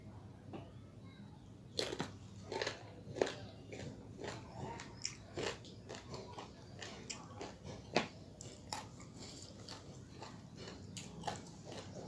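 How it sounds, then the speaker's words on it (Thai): Someone bites and chews small green mangoes close to the listener, making a steady run of crisp crunches with louder bites breaking in now and then. The sound is fairly quiet overall. "เสียงกัดขวาก"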